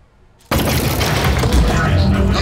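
A turret in the video game Aperture Desk Job opens fire suddenly after a moment of quiet, with a loud, dense, crackling burst of gunfire that keeps going without a break.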